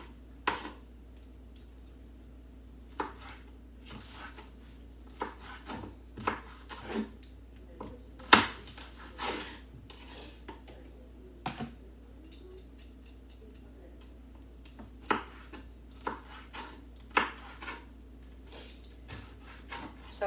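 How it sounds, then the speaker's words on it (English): Knife cutting peppers into thin slices on a board in a home kitchen, giving scattered sharp clicks and taps at an irregular rhythm, faint and close, with no talk. "I'm just gonna cut up these peppers in thin slices"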